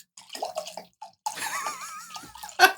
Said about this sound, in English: I'm not pouring this very well.